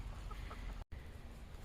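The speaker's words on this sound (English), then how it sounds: "And we're going to feed the chickens." Hens cluck softly at feeding time on a homestead, a low steady murmur of fowl with a few brief calls, close by and with no talk.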